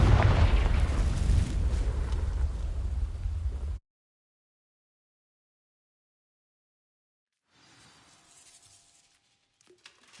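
The Confringo spell explodes in the video game Hogwarts Legacy with a loud, rumbling blast that roars for several seconds and then cuts to silence, followed by faint, low ambient sound.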